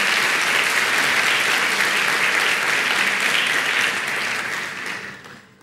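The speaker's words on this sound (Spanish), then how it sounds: "dale un aplauso al Señor" A church congregation applauding during a sermon, dense sustained clapping from a large crowd that holds steady, then fades out over the last second.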